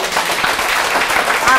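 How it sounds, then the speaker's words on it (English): An audience at a hypnotherapy business meeting breaks into a short burst of applause, the broad wash of clapping mixed with voices. "Everybody gives him an applause."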